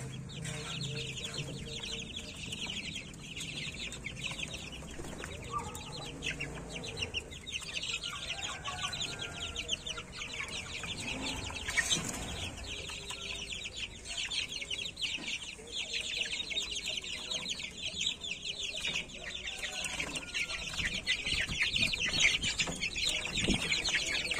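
Chicks in a fruit basket keep up a steady, dense chorus of high chirping and peeping at close range. Faint clucking and brief background voices come through now and then.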